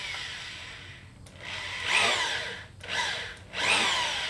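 Power drill boring a bolt hole through the wooden backbone of a boat, in three whining bursts with brief pauses between, the bit grinding through timber at moderate distance.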